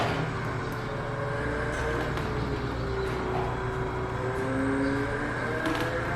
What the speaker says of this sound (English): I got the Ferrari 488 GTE right now.